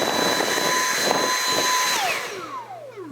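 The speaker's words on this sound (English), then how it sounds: "No, I'm getting the vacuum." A household vacuum cleaner runs loud and close with a steady high whine for about two seconds, then its pitch drops away as it winds down, a low hum lingering at the end.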